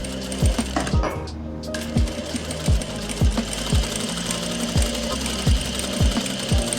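Sewing machine stitching along the edge of a plazo pocket, a steady rapid mechanical clatter with regular thumping beats, close and continuous.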